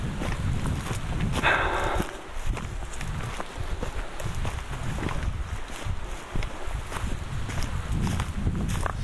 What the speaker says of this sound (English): It's a little cold and windy.